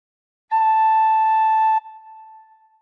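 Tin whistle notes: a single clear, steady high tone held for about a second, then left ringing softly as it fades, played solo.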